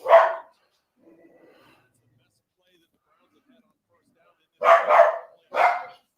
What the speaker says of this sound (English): Our dogs, basically, if a shadow goes by our house, our dogs decide that they have to pretend to protect it.